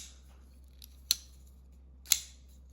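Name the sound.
folding knife flipper snapping open with a thwack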